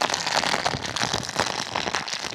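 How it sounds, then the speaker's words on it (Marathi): Heavy monsoon rain pours on hikers during a trek, a dense, continuous close-up patter and splatter with no pauses and no voices. "पावसाने झोडपायला चालू केलेलं आहे आम्हाला"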